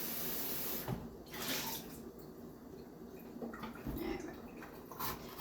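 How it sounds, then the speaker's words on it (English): Water from a kitchen tap running while a cut green pepper is rinsed, a low, steady splashing hiss with a few brief clatters and changes as the item moves under the stream. "I have to rinse this off too."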